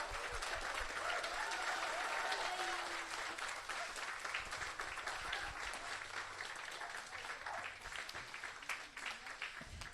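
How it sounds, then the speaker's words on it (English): A crowd at an autumn rowing festival applauds continuously, a dense wash of clapping that holds steady at a moderate distance with some voices mixed in. "let's just give him a little round of applause"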